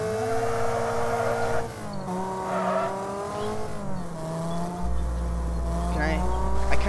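Cars race in the Wreckfest video game. An engine revs and climbs through gear changes, its pitch rising and dropping in loud sweeps, with a heavier rumble swelling near the end.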